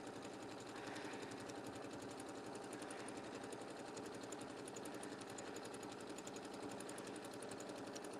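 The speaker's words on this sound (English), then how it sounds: "since I broke my thread, I've got to backstitch there" A sewing machine backstitches over quilting fabric for a table topper after a thread break, running in a fast, steady mechanical chatter close by with no pauses.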